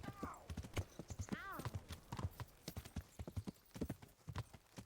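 Steady clip-clop of horse hooves in Kingdom Come: Deliverance, an even walking rhythm of close, crisp hoof falls that runs throughout, with a brief whinny and some game sounds mixed in.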